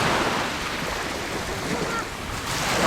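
Black Sea waves near Kerch wash and break in a continuous broadband rush, mixed with gusty wind buffeting the microphone.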